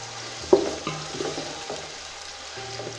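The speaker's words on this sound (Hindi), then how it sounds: "ये पतीले में मैंने ऑयल ऐड कर दिया है। अब इसमें ये प्याज ऐड करूँगी।" Onions hiss and crackle as they hit hot oil in a cooking pot, with a sharp sizzle burst followed by steady frying and occasional stirring clinks, close and moderately loud with no voices.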